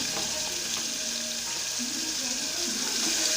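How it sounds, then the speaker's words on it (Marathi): Chopped tomato sizzles and fries in hot oil in a pan for a spinach bhaji, a soft continuous crackle with occasional stirring, fairly quiet and steady. "हे बघा इथे आता मी टोमॅटो टाकत आहे"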